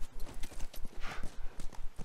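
Horse hooves clip-clop in a steady rhythmic gait in The Last of Us video game, close and fairly loud, with a brief snort or whinny-like burst midway and no talk.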